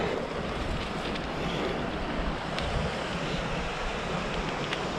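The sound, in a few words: waterfall near old railway platform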